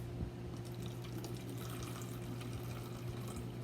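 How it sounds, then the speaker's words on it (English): White vinegar pours steadily into a bottle being filled about halfway, a continuous close liquid rush with a low hum underneath and no talking. "you're going to fill your bottle about halfway with that white vinegar"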